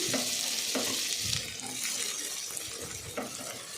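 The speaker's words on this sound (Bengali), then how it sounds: "তেল গরম হলে পেঁয়াজ কুচি দিয়ে দিচ্ছি এবার দিয়ে দেবো আমি ক্যাপসিকাম কুচি" Chopped onion and capsicum fry in hot white oil with a close, constant sizzle, with occasional soft knocks as they are stirred in the pan.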